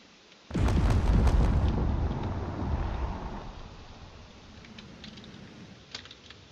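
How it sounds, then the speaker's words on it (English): Torpedoes launch from a damaged cruiser in the Drone Wars video game, a sudden loud booming burst with crackling that rolls on for a couple of seconds and then fades into a lower rumble with faint clicks. "It's going to fire whatever torpedoes it has left."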